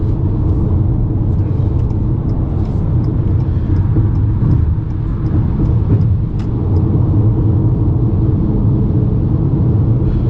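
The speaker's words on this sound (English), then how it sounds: "little bit of wind noise at speed." Constant road and wind roar from inside a Ford Maverick XL Hybrid truck at speed, a loud broadband rush with low rumble, steady throughout with no voices.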